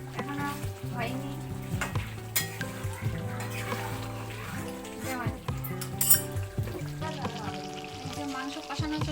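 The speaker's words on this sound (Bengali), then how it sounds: "এই যে মাংস রান্না চলছে, কষানো চলছে, এখনো হয়নি।" Mutton being stir-fried in a pan for kosha, a close, continuous sizzle with repeated scraping and clinking of a spatula stirring, while a person talks over it.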